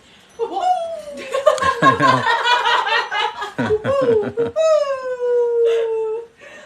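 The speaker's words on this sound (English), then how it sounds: "How she howls, how she hoots." A dog howls in long, wavering tones, sliding and hooting through several rising and falling cries, close and loud, with brief yips between the drawn-out notes.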